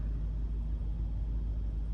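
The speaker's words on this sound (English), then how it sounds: "Let me turn the car off." A car engine idles steadily at close range, a continuous low rumble with no revving and no talk over it.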